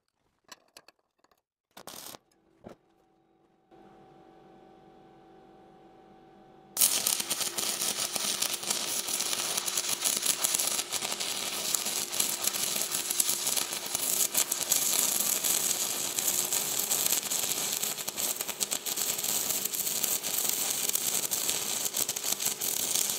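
An arc welder set to 85 amps starts up after a few clicks and a faint hum, then crackles loudly and steadily for a long continuous run. No voices are heard.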